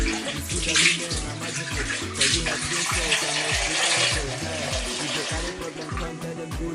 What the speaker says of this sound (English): I will add a little bit more water.